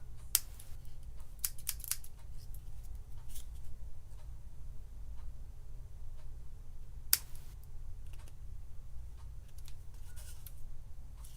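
Scissors snipping paper tree trunks for a handmade whimsical tree card, a few quiet close cuts in small bursts separated by long pauses over faint room hiss.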